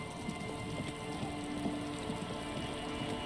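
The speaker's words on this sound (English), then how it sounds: "And it's raining." Rain in the video game Disco Elysium falls as a continuous, even patter on surfaces, a dense steady hiss with no talking over it.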